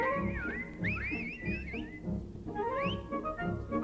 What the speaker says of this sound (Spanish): ¿Qué significan esos silbidos?